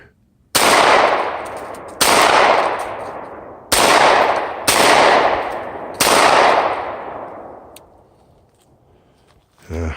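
A firearm shooting hand-loaded reload rounds outdoors in the woods: five loud, sharp reports in fairly quick succession, each trailing into a long rolling echo that fades out, with nobody speaking.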